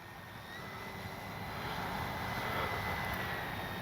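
An E-flite Sportix RC airplane flies at low throttle, giving a steady, faint motor drone that swells slightly as it passes, with a thin whine above it.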